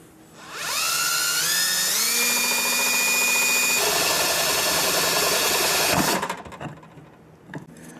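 A power drill bores through the metal cap of a halogen headlight bulb during an HID kit install on a 2016 Kia Sorento, a loud steady whine rising in pitch then running for about five seconds before cutting off.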